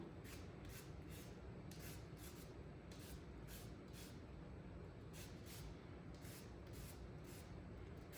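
Limes scraped against a zester for a creamy lime pie, making faint, rhythmic rasping strokes repeating steadily about twice a second in a quiet kitchen.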